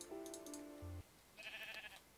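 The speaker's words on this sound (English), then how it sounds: "Time to gather up the sheep." Short synthetic sheep bleats from Minecraft, two quick cries following a tonal game sound, fairly quiet and with no talking.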